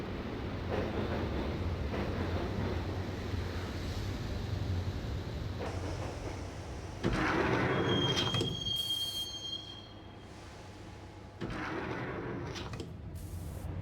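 Subway train ride in the game Max Payne: a steady low rumble of rolling wheels and rattling carriages, rising to a louder clatter midway with a thin high wheel squeal, then settling back to a quieter steady run.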